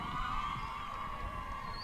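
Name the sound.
excited crowd cheering at opening ceremony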